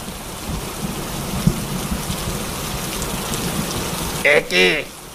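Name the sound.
heavy rain with thunder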